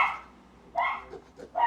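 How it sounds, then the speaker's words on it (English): A dog barks and yips indoors near a door, three loud close barks spaced out with short pauses between them, and no one talking. "el perro, the dog."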